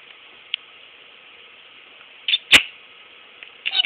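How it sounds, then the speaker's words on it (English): A cat sitting inside a shoe lets out a couple of short, faint meows near the end, over a steady background hiss dotted with small clicks. "The pretty kitty."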